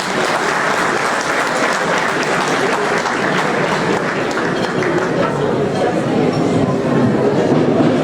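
Audience applause at a community fast-breaking (iftar) gathering, welcoming a guest speaker to the podium; dense, steady clapping from a crowd fills the room throughout without a break.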